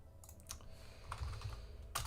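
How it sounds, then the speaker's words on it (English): Faint typing on a computer keyboard drifts in from the background, a few scattered bursts of soft key clicks against a quiet low hum. "You might hear some typing in the background."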